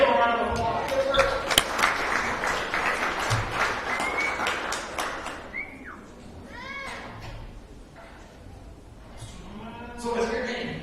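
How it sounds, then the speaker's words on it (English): Audience applause and clapping at a county fair lamb show, a dense burst for the first five seconds that thins out, with a few voices and animal-like calls in the background and a final swell near the end. "let's give him a round of applause"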